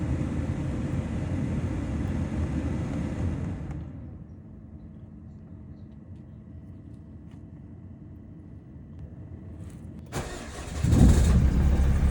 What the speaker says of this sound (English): Finally, check if everything is fine and start the engine